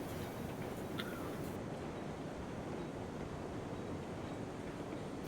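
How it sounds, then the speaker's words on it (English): A coal train in the Railroads Online game gives a continuous, fairly loud rumbling roar that holds steady throughout. "there's a coal train in the way"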